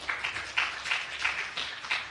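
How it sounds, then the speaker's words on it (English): Applause from an audience at a community event on youth-friendly HIV services, a soft, steady patter of many hands clapping, moderately distant and without voices. "A big round of applause to everyone."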